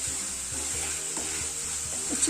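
Small chicken pieces for a masala chicken macaroni fry on a high flame, giving a steady bright sizzle with soft scraping stirs at a regular pace, and no voices.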